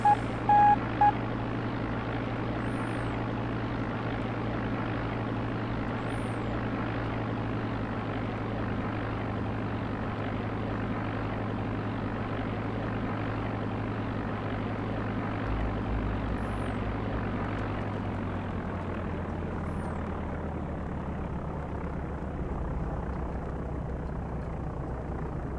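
A simulated Cessna propeller engine in the X-Plane 5 flight simulator game drones steadily at a constant pitch, then shifts slightly lower partway through, with a few faint high chirps above it.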